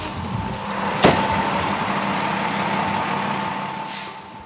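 Fire engine arriving on scene and settling into idle, a steady heavy diesel rumble with a sharp air-brake hiss near the start, then a continuous engine drone.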